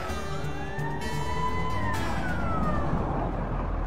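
An ambulance siren wails in a video game, with a sustained rising and falling tone over a dense rumble of engine and street noise throughout.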